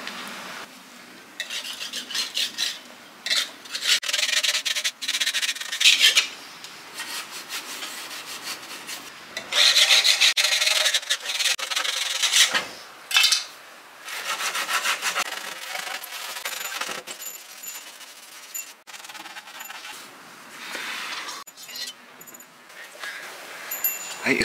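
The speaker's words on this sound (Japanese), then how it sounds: "マジックロンとヘラを使って塗膜を削っていきます" Peeling paint being scraped off a front door with a Magiclon pad and a spatula, continuous rough rasping and scrubbing strokes at close range, rising and falling in bursts.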